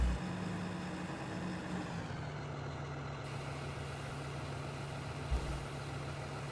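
The big engine of a large tractor in Farming Simulator 15 drones at a constant low idle, dropping slightly in pitch early on, with a short knock near the end.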